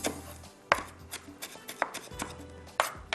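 A knife finely chops an ingredient on a cutting board for a Hyderabadi curry, giving sharp, close knocks in an irregular rhythm with short pauses between bursts.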